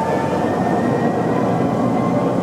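A CN Rail unit coal train of open hopper cars rolls past in Canada, a loud, continuous rumbling roar with steady wheel and rail noise and a faint high whine running throughout.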